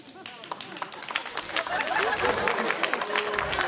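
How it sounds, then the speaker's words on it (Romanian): Audience applause at a Micutzu stand-up comedy show swells from scattered claps into fuller, sustained clapping, with a voice audible over it at the start. "S-a aplaudat mai devreme decât credeam"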